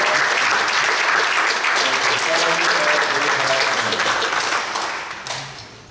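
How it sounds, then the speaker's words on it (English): Loud, full audience applause rolls through a venue for performers coming onto a stage, a dense steady wash of many hands that holds for several seconds and then fades away, with faint voices underneath. "Let's give them a round of applause for coming to the stage."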